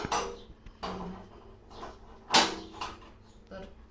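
Metal burner parts are fitted onto a three-burner gas stove, producing a few sharp metallic clinks and clatters spread over several seconds, with one loud clank near the middle and soft handling noise between.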